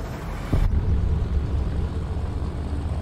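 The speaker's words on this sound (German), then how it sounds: "Und da ist das Flugzeug." A propeller airplane drones overhead during a race in the Trail Out video game, a steady loud engine roar that swells abruptly and holds throughout.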